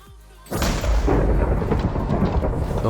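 A lightning strike in Minecraft on the FTB Beyond modpack: a sudden loud crack that rolls into a sustained, heavy thunderous rumble filling the rest of the moment.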